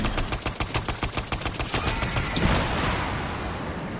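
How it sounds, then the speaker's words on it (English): Video game gunfire opens with a fast, evenly spaced run of loud automatic shots, then gives way to a heavier blast and a rushing, noisy wash, with no talking. "Taking a lot of fire."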